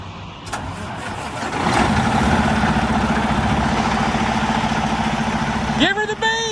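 A car engine cranks and catches near a marine transport site, settling into a steady loud idle with revving, while people shout over it and a brief squeal is heard near the end.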